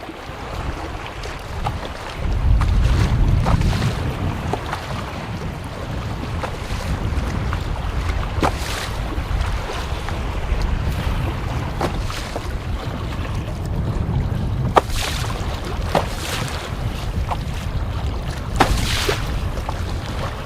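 Kayak paddling on windy Lake Superior at sunrise, with steady wind buffeting and low water rumble throughout, a gusty swell near the start, and faint periodic splashes of paddle strokes.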